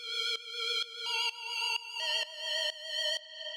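Bright synth lead sounds from an ethereal techno track play a repeating pattern of short, pulsing notes with clean sustained tones, rhythmic and alone without talk.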